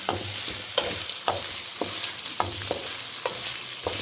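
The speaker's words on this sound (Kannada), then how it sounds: "ನೆಕ್ಸ್ಟ್ ನಾನು ಚಕ್ಕೆ ಲವಂಗ ಎಲ್ಲ ಹಾಕ್ಕೊತ ಇದ್ದೀನಿ ಅದೆಲ್ಲ ಚೆನ್ನಾಗಿ ಮಿಕ್ಸ್ ಮಾಡಿ ಹುರಿತಾ ಇರ್ತಪ್ಪ" Cinnamon and cloves fry in a pan for a rural-style goat head and trotter sambar, with a steady sizzle broken by regular scraping strokes of a stirring spoon, close and fairly loud, no voices.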